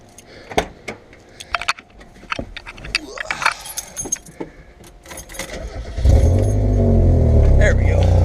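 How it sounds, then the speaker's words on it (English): Keys jangle and rattle close by for several seconds, then a car engine cranks and catches, settling into a loud, steady running idle that continues to the end. "I forgot I have to start my car."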